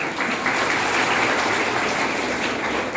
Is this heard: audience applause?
yes